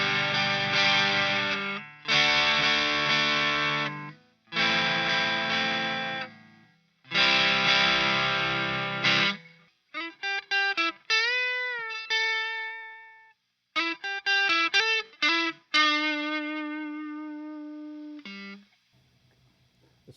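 Electric guitar driven through a Boss Super Distortion pedal, loud thick distorted chords in bursts with pauses, then sustained single notes and bends ringing out alone.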